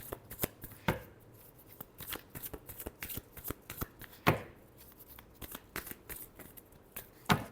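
Tarot cards are shuffled by hand in repeated quick bursts of riffling and sharp slaps, close and fairly quiet, separated by brief pauses, with no speech.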